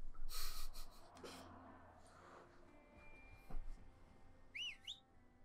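A character whistles in the video game A Way Out. A brief rising-and-falling whistle comes near the end, over quiet game noise and scattered thumps.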